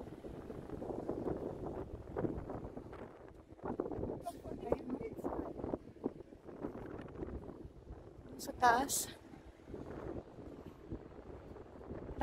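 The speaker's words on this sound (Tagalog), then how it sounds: "Lakas ng hangin." Strong wind buffets the microphone outdoors in steady gusting rumbles, with brief speech and other faint sounds of the surroundings mixed in.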